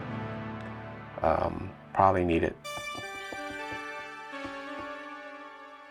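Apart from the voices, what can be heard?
synth melody from retro preset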